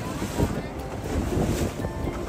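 A large ship moves on the sea off the Atlantic coast of Honduras, a low rumbling wash of water and engine heard through heavy gusting wind noise on the microphone.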